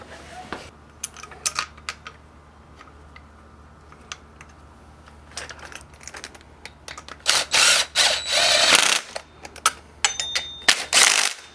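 A ratchet spinning bolts into a 1967 Camaro engine during a rebuild, light intermittent clicks at first, then louder, sustained bursts of fast ratcheting close by, with scattered clinks of metal between.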